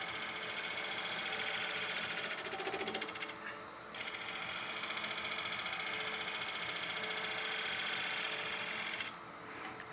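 Wood being cut by a bowl gouge on a lathe: a steady, fairly loud mechanical whir with a scraping, buzzing edge that swells and dips briefly before holding on. No one talks.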